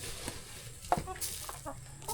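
Chickens cluck softly in short, scattered bursts, fairly close, over a low background hum.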